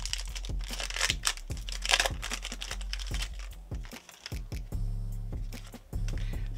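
A Pokemon card booster pack is ripped open up close, a loud run of tearing and crinkling foil with sharp crackles, ending in rustling handling of the cards.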